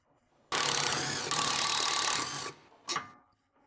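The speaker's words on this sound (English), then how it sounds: "Use a 15mm deep socket with electric impact. Remove the two lower shock bolts." An electric impact wrench with a 15mm deep socket buzzes loudly and steadily for about two seconds removing lower shock bolts on a 2013-2020 Ford Fusion, followed by one short burst, close and alone with no talk.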